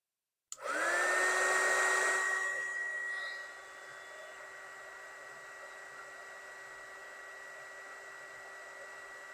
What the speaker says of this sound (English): Very carefully use my heat gun.